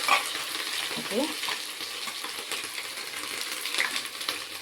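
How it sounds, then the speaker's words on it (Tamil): Crushed ginger and garlic sizzle steadily in hot oil in a pan for a mutton biryani, with soft stirring scrapes throughout and a brief spoken word near the start. "நச்சுட்டு வச்சுருக்க இஞ்சி பூண்டை அதில் போட்டுருங்க"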